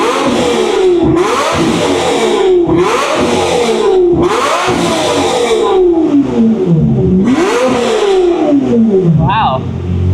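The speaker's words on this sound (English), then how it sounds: "we're gonna rev it" A Ferrari 550 engine revs repeatedly, each blip rising and falling in loud close bursts, followed by a longer sweep up and down; brief voices can be heard around the revving.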